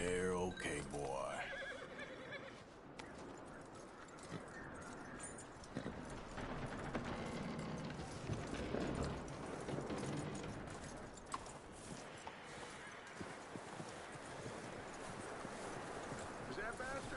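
Horse in the Red Dead Redemption 2 video game, with hooves clip-clopping and a neigh near the start, followed by continuous trotting and rustling under intermittent character voices.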